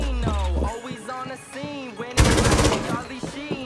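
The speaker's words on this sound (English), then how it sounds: "He's shooting at you and hit me." Rainbow Six Siege gunfire, with a burst of rapid automatic shots midway, loud and close, amid other game sounds and a brief voice.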